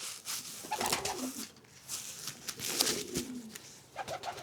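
A racing pigeon with slick, dry feathers being handled up close, giving soft, dry rustles and brushing sounds, with quiet cooing from birds mixed in.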